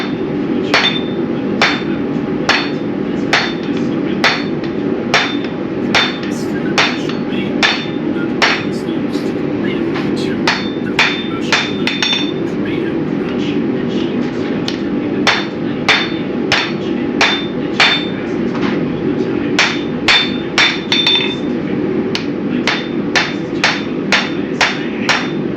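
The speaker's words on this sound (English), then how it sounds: "Tilt it down to about a 45-degree angle using a half on, half off hammer blow." Hammer blows forging an offset into the tang of a knife made from cable, struck half on, half off the anvil edge; a long run of sharp, ringing metallic strikes at a steady, quick rhythm, loud and close.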